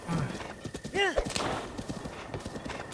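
A horse in the video game Zelda: Breath of the Wild whinnies sharply over a patter of clip-clopping hooves, with game-like effects and a voice speaking underneath.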